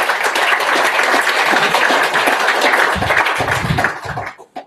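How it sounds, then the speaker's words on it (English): Conference audience applause: loud, dense clapping from a full room that keeps up for about four seconds before thinning into a few last claps and stopping. "Round of applause."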